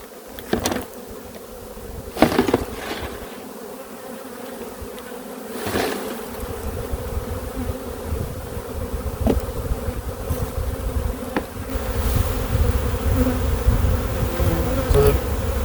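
A dense, loud buzz of honey bees fills the air continuously, swelling slightly over time, with a few soft knocks and thumps underneath, as about 300 bees are shaken off for a varroa mite wash.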